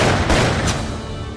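Gunshots from a Walther PPK 9mm short pistol ring out within a dense, loud, continuous mix, with two sharp bursts standing out early in the sequence.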